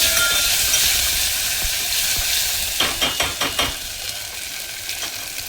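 A tempering of asafoetida, garlic, green chili and curry leaves frying in a pan gives a steady hiss, then a spoon scrapes and knocks the pan in a quick run of five rhythmic strokes while the sizzle continues.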